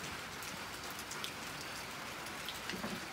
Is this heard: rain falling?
yes